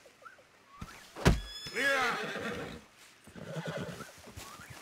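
A horse in Red Dead Redemption 2 lets out a loud, close whinny that rises sharply then trails into a long, wavering neigh, followed by softer snorting and shuffling sounds.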